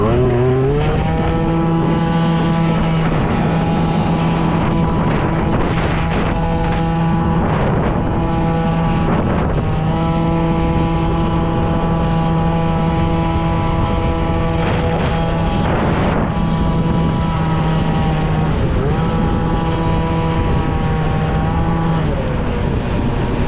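Honda Elite scooter engine running steadily with a strong buzzing drone, its revs rising and falling a few times, loud and close with wind noise on the microphone.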